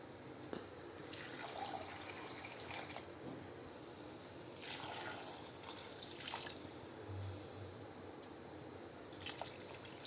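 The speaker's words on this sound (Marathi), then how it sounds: "आता त्याच्यात पाणी टाकते" Water poured into a cooking pot on a stove, heard as several separate bursts of splashing and trickling with quieter gaps between them, close up and with no voices.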